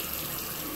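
Water poured from a tap onto a backpack in a bathroom, a steady, close rushing stream running without a break for under a second, with no talk.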